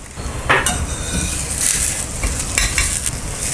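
A zucchini paratha laid on a hot griddle with a little oil gives a steady sizzle. Occasional scrapes and light clinks come through, with no talking.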